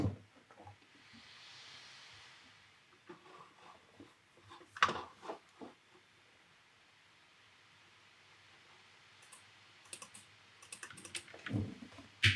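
Typing on a computer keyboard while entering an email during a WordPress install, with scattered soft key taps, a pause, then a quicker burst of clacks close by.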